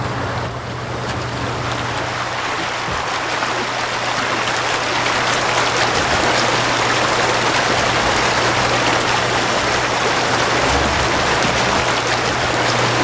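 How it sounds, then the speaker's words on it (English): Red Willow Creek in Taos Pueblo country, fed by melting snow, rushes close by in a loud, steady, unbroken wash of flowing water with a low hum beneath it, and no voices. "Listen to the Red Willow Creek."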